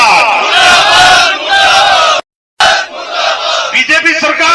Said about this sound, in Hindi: अगर आप सहमत हो तो सब हाथ खड़ा करके नारा लगाओ, भजनलाल सरकार मुर्दाबाद,